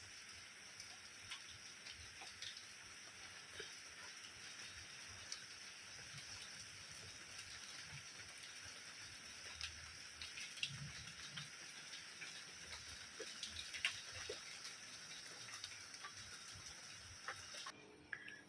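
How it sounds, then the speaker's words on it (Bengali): Steady morning rain falls continuously as an even, close wash of patter, with a few louder drops standing out and no voices. "বৃষ্টি শুরু হয়েছে।"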